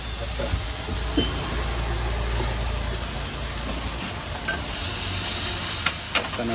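Pepper sauce is stirred and mixed on a hot street food truck griddle in Moratuwa, Sri Lanka, giving a steady sizzling, crackling hiss with occasional scraping clicks close by.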